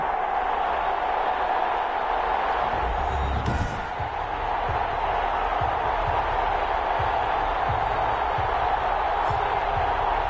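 A stadium crowd roars steadily in an American football video game before a New England Patriots matchup, a dense continuous wash of fans with faint thuds, heard under a commentator's voice.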